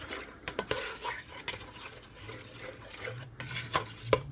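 A spoon stirs powdered cheese into macaroni in a pot, making soft scrapes and clinks against the metal in uneven bursts. The sound is close but fairly quiet, and nobody speaks.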